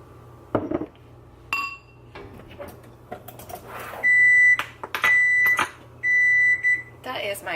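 A rice cooker signals the rice is done with a run of electronic beeps, including longer sustained tones, amid kitchen clatter of dishes and utensils while a person talks nearby.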